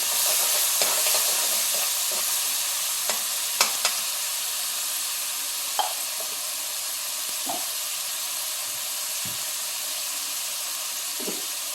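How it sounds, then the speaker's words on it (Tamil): Tomato sautéing in a pan: a constant bright sizzle and hiss runs throughout, broken by occasional sharp spoon taps and scrapes against the pan, close by, with no talking. "தக்காளி வதங்கிட்டோம்"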